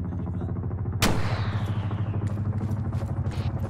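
A single sharp gunshot rings out in Arma 3 combat, loud and close, its crack decaying into a rattling echo over a steady droning engine background, followed by a few fainter clatters.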